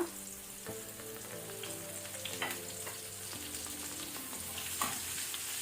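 Curry leaves hit hot oil as tempering for spicy pepper chicken, a soft, steady sizzle with small crackles heard faintly under background music.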